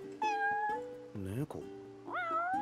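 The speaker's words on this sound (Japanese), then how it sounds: "猫、" A cat in the game Final Fantasy XV meows several times, clear and close, with drawn-out rising and falling calls and no talking over them.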